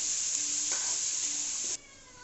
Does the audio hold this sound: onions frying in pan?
yes